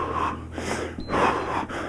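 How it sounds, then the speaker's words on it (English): Heavy breathing during a steady cardio workout: sharp gasping inhales and forceful snorting exhales in a quick, uneven rhythm, close and clear with no talking. "I'm breathing."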